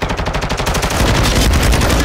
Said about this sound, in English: You're firing, Yota.